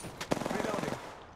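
Video game gunfire crackles in a quick burst of rapid shots lasting about a second, close and fairly loud, then cuts off.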